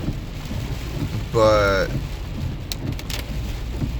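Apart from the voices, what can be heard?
rain heard while driving to work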